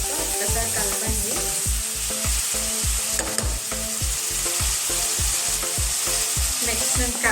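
Chicken pieces tossed into half-cooked tomatoes for capsicum chicken curry, frying loudly with a vigorous sizzle and rapid, rhythmic scraping of a spoon stirring the pan, close and continuous with no talk.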